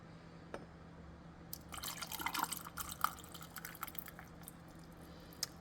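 Homemade water kefir being poured, a faint close trickle with small drips and splashes that builds steadily for several seconds, no voices.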